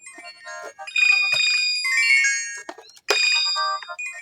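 A new mobile phone plays its ringtone, a bright electronic melody of chiming tones in two bursts with a short gap between them, loud and close, with no talk over it.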